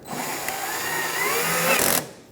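A cordless power driver buzzes for about two seconds as it drives a screw into the front bumper of a Kia Soul, rising slightly in pitch before cutting off, close and alone.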